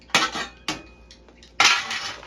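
A utensil stirs instant potatoes in a pot, giving three sharp metallic clanks and scrapes against the pot, close and fairly loud, separated by short quiet gaps.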